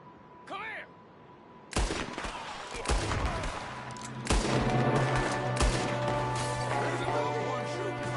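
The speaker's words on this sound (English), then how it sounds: "There's another one shooting from the window." Enemy gunfire in Red Dead Redemption 2, loud cracking shots fired irregularly, some close and echoing, with voices shouting between the blasts.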